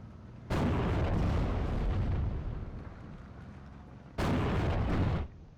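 Two heavy booms from an M10A1 tank destroyer firing at a tank in Steel Division: Normandy 44, each a loud, sudden blast with a rumbling decay, spaced about four seconds apart.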